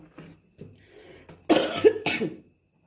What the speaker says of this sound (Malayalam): പനിയും ചുമയൊക്കെയാണ്